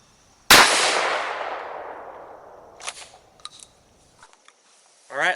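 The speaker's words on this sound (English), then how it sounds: "So let's take a shot, see what we got at 15 yards." A single loud Stoeger M3000 shotgun blast fired outdoors with a .710 choke at a 15-yard target, sharp and close, followed by a long decaying echo and a few faint clicks and handling noises.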